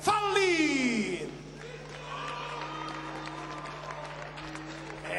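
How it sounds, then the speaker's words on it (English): Crowd at a boxing event applauding and cheering as a 40-year-old kickboxer from Dortmund is introduced, a loud burst of clapping and whoops over a ringing announcer voice, then settling into softer sustained applause and crowd noise. "Ladies and gentlemen, big applause for Nico"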